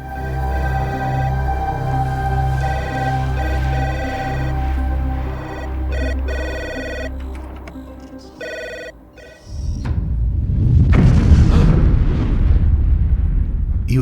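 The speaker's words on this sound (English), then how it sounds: "You hear a thunderous explosion." In a detective video game, a ringing telephone-like tone gives way to a loud, rumbling thunderous explosion that swells and lingers for several seconds.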